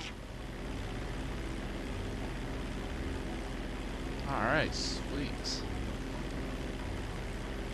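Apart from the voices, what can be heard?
airplane flying in the video game GTA V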